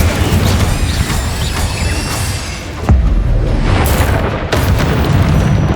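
An Incendio fire spell blast in the game Hogwarts Legacy, a loud roaring burst of flame with heavy booming crackle, sustained, then cut and a second surge near the end.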